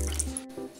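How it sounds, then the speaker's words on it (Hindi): Water pours and drips into gram flour batter being made for Punjabi kadhi, a short wet splash and trickle lasting under a second. "बचे हुए बेसन के घोल में पानी ऐड करेंगे।"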